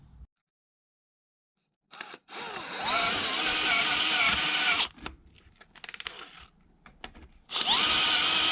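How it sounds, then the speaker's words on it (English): Power drill boring out a hole in a Yamaha XV750 motorcycle bracket, close and loud in two long high-pitched whirring bursts with a short grinding, stuttering stretch between them, starting after a brief silence. "So I'll go grab a drill and I'll drill this out now and we'll re-tap it."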